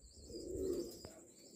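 A Shah Parwaz pigeon gives a soft, low cooing phrase close by, swelling and fading over a second or so, with a faint click near the end and light background hiss.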